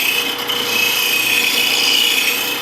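A sharpening wheel grinding the back bevel of a woodturning tool held in a jig, a continuous bright, hissing abrasive whine that stays loud and steady throughout, close to the grinder.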